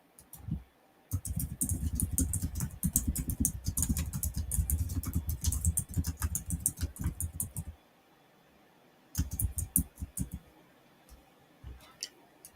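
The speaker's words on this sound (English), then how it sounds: "I'm sorry if you can hear my keyboard tapping" Rapid, dense keyboard clicking runs steadily for several seconds, pauses briefly, then resumes in a shorter burst of typing, close and fairly loud.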